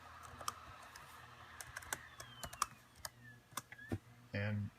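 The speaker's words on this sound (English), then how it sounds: "you simply type right back in that same service tag number" Close, irregular key presses on a Dell Latitude laptop keyboard as a service tag code is entered, clicks sounding in uneven bursts with a short hum near the end.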